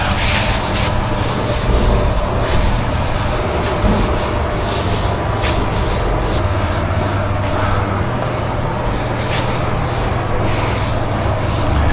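Balled-up cloth wiping down a freshly cleared gun, giving a steady continuous rubbing and swishing that runs close and loud for the whole stretch over a constant low background hum, with no talking.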